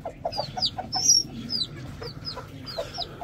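Hens clucking in a short series of close, repeated clucks with higher squawks over steady background noise, in a backyard poultry setting with caged birds.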